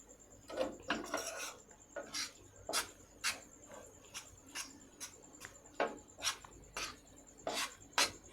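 Thickening milk mixture for malai naru is stirred in a metal pan, giving repeated rhythmic scraping and clinking strokes of a spoon against the pan, close and fairly loud, with no talk.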